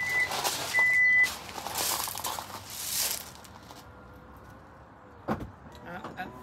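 A 2023 Kia Sportage GT-Line S powered tailgate closes with a whirring motor and warning beeps, then shuts with a solid thud near the end.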